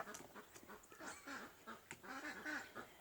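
Muscovy ducks give soft, breathy hisses and low quacks, several short calls in quick succession, faint and close by, with no talk.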